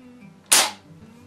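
Pump-action BB gun fired once, a single sharp, loud snap followed by a quick decay in a quiet room.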